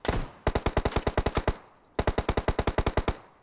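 Two rapid bursts of automatic gunfire from PUBG Mobile, each a dozen or so sharp evenly spaced shots, loud and close, following a short initial blast, with no talking.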